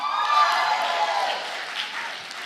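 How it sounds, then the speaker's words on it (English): Crowd applause at an evening event, broad and even clapping from many people with faint cheering mixed in, gradually tapering off. "can we give a big hand of applause to the girls watching from Braden Center tonight"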